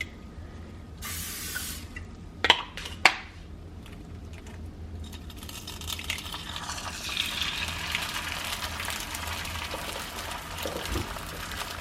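Cooking spray hisses from a can onto a pan before eggs are cooked, as a steady close-up spray running for several seconds after a few small clinks.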